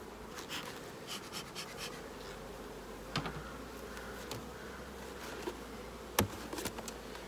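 Honey bees of the Saskatraz line hum steadily at an apiary hive, a dense continuous buzz up close with a few faint ticks and knocks of handling, no voices.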